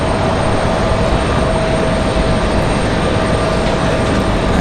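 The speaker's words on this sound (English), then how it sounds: "That one departing Delta 2164, again, headed to Detroit" A Delta airliner departing Raleigh Durham International, bound for Detroit, gives off a steady, loud broadband engine roar that holds level throughout without a break.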